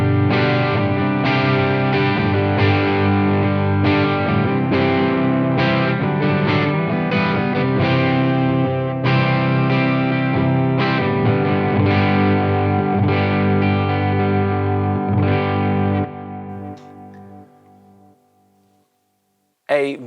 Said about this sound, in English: This is the default sound that you get when you load the plugin up